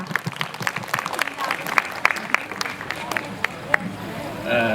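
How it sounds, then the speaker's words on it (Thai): Clapping from a crowd welcoming a speaker at a Sports Night Party at a resort, with scattered sharp claps over crowd murmur and voices throughout. "ขอปรบมือต้อนรับ"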